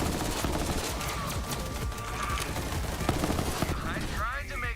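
Rapid automatic gunfire in the looter-shooter game Borderlands 3, a dense stream of close shots running throughout, with electronic game effects near the end.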